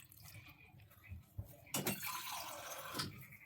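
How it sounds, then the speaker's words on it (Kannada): Water poured into a pot for Andhra-style spinach dal: a quiet kitchen, then a soft splashing pour that begins midway and continues as a steady trickle, close and fairly faint. "ಇವಾಗ ಇದಕ್ಕೆ ನೀರು ಹಾಕ್ಕೊಳ್ಳಿ. ತುಂಬ ಹಾಕೋಬೇಡಿ."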